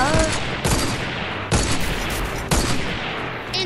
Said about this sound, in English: Can you stop shooting? This gun is an insta-kill.